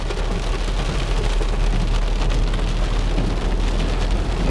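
Steady, dense rain hisses continuously over a low rumble, loud and constant like a downpour heard from a vehicle on a city street, with no talking.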